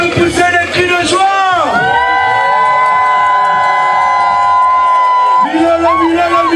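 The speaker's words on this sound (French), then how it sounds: "Est-ce qu'on peut pousser les cris de joie?" Guests at a customary wedding send up loud, sustained ululating cries of joy that waver and slide in pitch, filling the space continuously with crowd noise beneath them.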